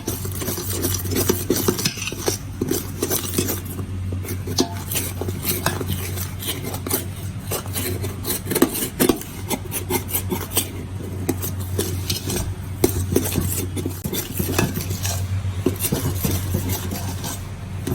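Semolina and grated coconut roasted together in a pan for sooji laddu, stirred continuously with a utensil, giving dense, steady scraping and clinking against the pan, close and fairly loud, with no voices.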